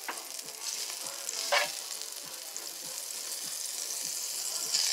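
Butter sizzles steadily in a pan, a continuous bright frying hiss with faint regular ticks and a brief louder crackle midway, heard alone and fairly close.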